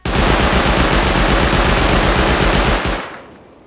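Auto turret in the video game Rust fires through a roof in a loud, rapid continuous burst of automatic gunfire lasting about three seconds, then cuts off with a short fading tail.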